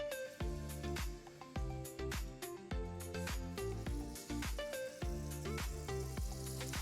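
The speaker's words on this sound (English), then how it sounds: "let's get this salmon cooked" Salmon fillets sear in hot oil in a pan, a close, quiet crackling sizzle running steadily under repeated soft clatters and thumps.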